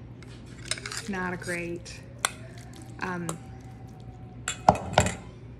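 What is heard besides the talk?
ingredients being mixed in a bowl with a utensil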